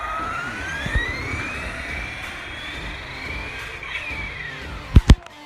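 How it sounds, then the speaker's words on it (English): Traxxas Rustler 4x4 RC car without a slipper clutch, its electric motor whining up and down in pitch as it accelerates and brakes, ending in two short sharp tire chirps, no talking. "don't hit the brakes too hard, because this is gonna screech the tires"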